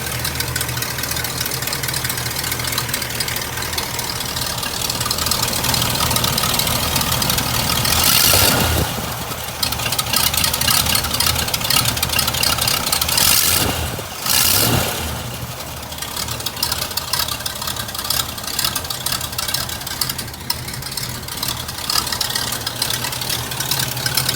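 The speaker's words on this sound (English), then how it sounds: "It actually, the car sounds pretty good. It took a second to kind of start." An old hearse engine idles roughly and loudly up close, a steady rumble broken by two brief revs in the middle.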